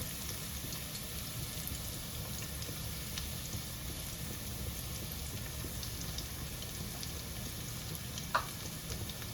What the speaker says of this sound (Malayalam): വെളിച്ചെണ്ണ ചൂടാവുമ്പോൾ നമ്മൾ ചതച്ച് വെച്ച നമ്മുടെ വെളുത്തുള്ളി ഇട്ട് കൊടുക്കാം